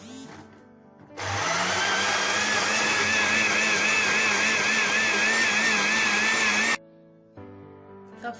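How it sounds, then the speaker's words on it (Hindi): A kitchen blender grinds about one cup of aloe vera gel with a loud, steady whir that starts abruptly, runs for several seconds at even strength, then cuts off, with quieter background sounds before and after. "अब हमने इसको ग्राइंड कर लेना है एलोवेरा जेल को।"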